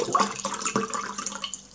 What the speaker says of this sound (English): now I have to pour it in the cup